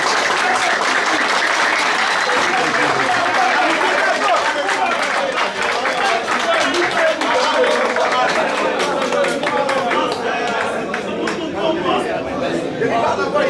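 Sustained applause from a large audience at a municipal installation ceremony in Cap-Haïtien, dense steady clapping with crowd chatter and voices mixed in throughout.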